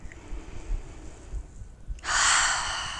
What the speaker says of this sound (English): One more deep inhale and exhale.